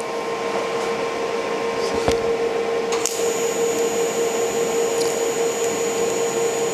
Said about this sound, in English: Let's do some more welding here.